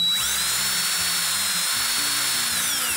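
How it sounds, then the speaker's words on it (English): A high, whining electric motor spins a wooden tuner-hole plug for a vintage Gibson guitar against self-stick sandpaper, giving a steady drill-like scream with low rubbing grit underneath and no voices. "We're going to turn this and sand it."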